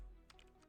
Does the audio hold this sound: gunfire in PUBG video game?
no